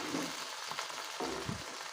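A fish fries in a pan after being flipped, giving a soft, close sizzle with brief bursts of crackle and stirring, no voices.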